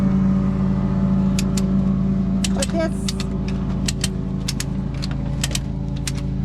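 A tractor engine idles in a steady, close, low drone while it lifts the back of a transmission, with a few light metallic clinks and a single brief spoken word.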